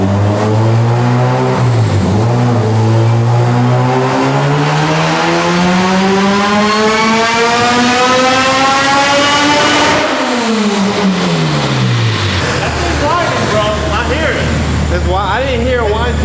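A supercharged K20A engine in a Honda Civic EG hatchback revs up in one long, rising pull, then drops back as the revs fall and settle, loud and close, with voices briefly audible near the end.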